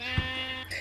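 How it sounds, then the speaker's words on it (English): A single short sheep bleat sounds in the Minecraft video game, nasal and wavering, over a steady tonal game background with a faint second cry near the end. "Oh, it's a sheep."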